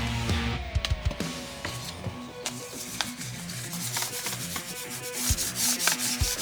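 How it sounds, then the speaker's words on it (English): Fine 1500-grit sandpaper wiped and rubbed over a cork, giving a steady close rasping scrub with brief scratchy strokes and small taps throughout. "Now we're going to do 1500 grit, and again we're going to do just a wipe down."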